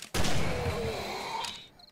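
A single loud gunshot in 7 Days to Die cracks out abruptly, then a long decaying roar and echoing tail trails off over about a second and a half.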